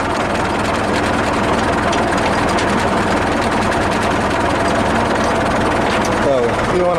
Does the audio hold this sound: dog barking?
no